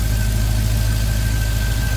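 Steady low rumble of a 1968 Chevrolet C10 pickup engine idling smoothly in its engine bay, close and loud with an even, continuous tone and no talk.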